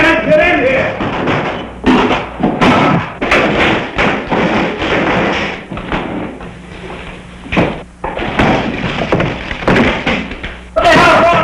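Heavy, repeated thuds of someone banging on a door land at an irregular rhythm, loud and close, with frantic shouting voices mixed in throughout.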